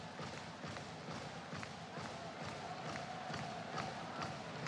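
Distant crowd at a women's team table tennis championship award ceremony keeps up a steady roar of cheering and clapping, filling the arena continuously without any single voice standing out.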